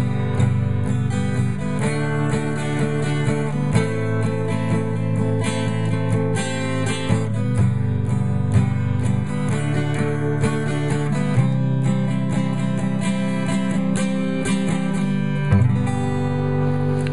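Acoustic guitar strummed through a song's chord progression, a steady loose strum with chord changes every couple of seconds, loud and close with no talking.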